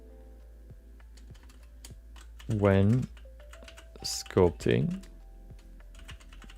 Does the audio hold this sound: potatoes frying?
no